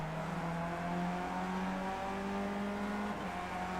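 Race car accelerating hard out of turn 1 at VIR Grand West, a steady engine roar with harmonics rising in pitch as it pulls through the gear, heard from onboard and fairly faint.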